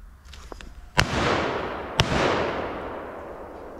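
Two sharp rifle shots about a second apart during a driven hunt in Sologne, each a loud crack followed by a long rolling echo outdoors.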